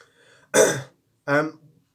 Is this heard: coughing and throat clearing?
yes